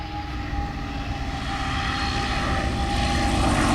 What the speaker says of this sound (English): Here he comes in for a landing.